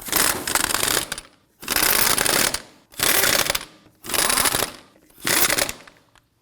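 Five bursts of a pneumatic impact wrench snug down lug nuts on the rear wheel of a 2003-2014 Volvo XC90, each loud close rattling run lasting about a second, separated by short silences.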